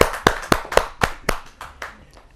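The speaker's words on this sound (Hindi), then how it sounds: "जोरदार ताली के साथ स्वागत करें" Loud, close single claps repeat in a steady rhythm, fading in strength toward the end, as a Kavi Sammelan poetry gathering welcomes a poet.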